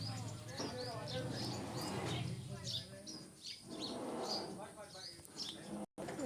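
Birds chirp in a home garden with fruit plants and flowers, their short bright calls repeating throughout at moderate distance, with a voice talking softly underneath.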